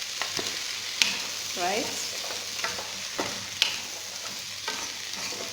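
Mixed vegetables frying in a pan and stirred with a spatula, with a steady low sizzle and several sharp scrapes and taps against the pan, and a single short word spoken.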